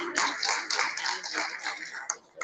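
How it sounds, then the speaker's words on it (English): Summit audience at a banking and financial services leadership event claps in a dense, continuous burst for a speaker, fairly close and steady, fading near the end. "give us a big hand of applause"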